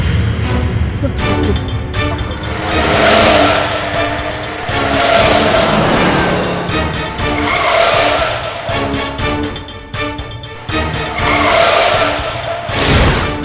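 A car brakes hard and skids in a Hindi courtroom TV drama, with several loud tire squeals and engine surges in bursts; voices are faintly mixed in.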